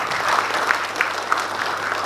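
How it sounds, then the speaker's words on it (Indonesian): A seminar audience of young people applauds steadily, with dense continuous clapping at an even level throughout, a few sharper claps standing out and no talk over it. "Tepuk tangan untuk kita semua."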